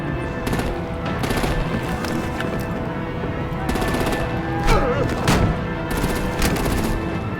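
Bursts of rapid automatic gunfire during a vehicle assault in Batman: The Telltale Series Season 2, fired in several separate volleys over a loud, busy background of game effects.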